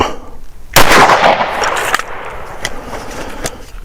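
A single sharp pistol shot fired during a timed draw drill on a shooting range, loud and close, followed by a brief ringing decay and faint background noise.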